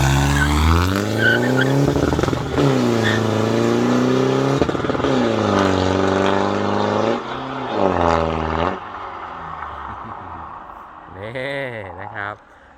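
A remapped new-generation Mitsubishi Triton pickup revs hard and launches, its engine climbing in loud, close surges with a squealing, wavering tire screech near the end; a voice speaks over the engine.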